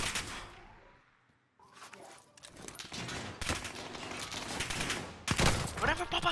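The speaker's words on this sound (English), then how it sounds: "Why am I the one always getting sniped at," Sniper gunfire in Call of Duty: Modern Warfare rings out as sharp close cracks and bursts, rising after a brief quiet stretch, with people talking in between.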